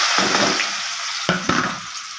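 Onions drop into hot oil and fry with a bright, hissing sizzle, with two sharper bursts of crackle as pieces are added or stirred, close and alone without talk.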